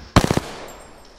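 A quick burst of about four rapid gunshots in the video game Apex Legends, loud and close, followed by a short fading tail and quiet.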